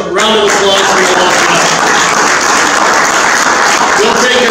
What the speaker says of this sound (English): A round of applause for you all